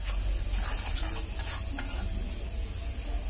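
Chili and turmeric powder sautéed in hot oil for a rohu fish roe and Malabar spinach dish: a steady, close sizzle under continuous stirring and scraping, with no talking.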